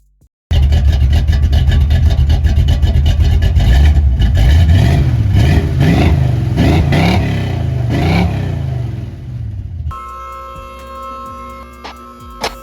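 A 1972 Chevy Nova hot rod engine revs hard and loud, up close, through old Flowmaster 40 series mufflers with dumps on rusty 2.25–2.5 inch pipe, with repeated throttle blips before settling into a rough, lumpy idle.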